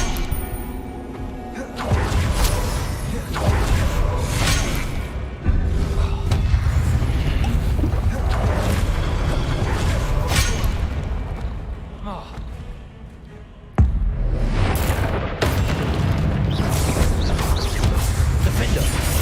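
Repeated Confringo explosion spells in Hogwarts Legacy burst in loud crashing blasts, one after another amid continuous combat noise, with a voice speaking throughout.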